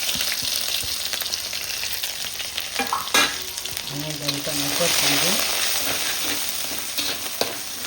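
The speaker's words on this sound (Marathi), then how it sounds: "तेल पण मस्त गरम झालेले मी थोडंसं जिरं घालणार आहे" Cumin seeds drop into hot oil and sizzle sharply, with a steady close crackle and a few spoon scrapes and clinks, and faint background noise with no talk.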